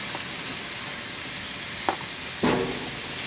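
Chicken glazed with brown sugar and soy sauce sizzles loudly and steadily on a backyard grill, with a couple of brief scraping clicks near the end and no talking.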